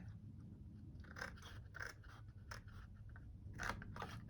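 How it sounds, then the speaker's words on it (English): Scissors cut through paper card for a tuxedo pop-up box, a run of quiet crisp snips and crunchy rasps in uneven bursts, close but faint against a low background rumble. "you are going to have to cut from there to that point"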